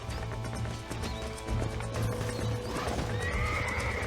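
A horse whinnies and its hooves clip-clop in a steady rhythm in the Western video game Red Dead Redemption, loud and close, with no talking.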